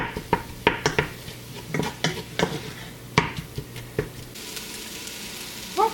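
Ground hamburger browns in a pan while a utensil chops and stirs it, sending a quick run of sharp metallic scrapes and clinks over a low, steady sizzle, then a brief quieter stretch.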